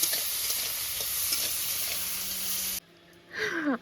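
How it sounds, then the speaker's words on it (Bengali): Crab frying in a pan over a wood-fired stove, a loud, steady hiss of sizzling oil filling most of the moment before cutting off abruptly, followed by a brief bird-like chirp and rustle. "তো চলো মা কাঁকড়াটা ভাজুক"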